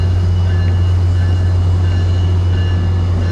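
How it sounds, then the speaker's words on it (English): Tri-Rail commuter train rolling past, a steady loud low rumble with faint high tones above it, continuous and close, with no voices. "There goes the tri-rail"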